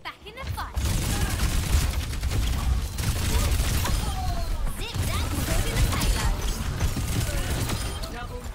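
Sustained turret fire and combat noise in Overwatch 2, a loud, continuous clatter of shots with crashes, while a player talks over the action throughout.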